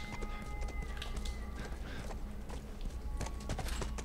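Horse hooves clip-clop in a steady walking rhythm in The Last of Us Remastered, fairly close, with faint creaks and quiet ambient tones in the background.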